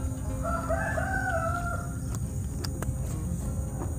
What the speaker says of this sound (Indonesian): Oh, suara ayam tuh nganggu.